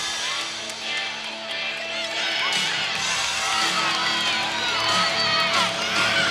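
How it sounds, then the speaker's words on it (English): An arena crowd at a college gymnastics meet cheers loudly and continuously through a vault, with whoops and shouts swelling over a dense roar of voices. "The crowd is so loud"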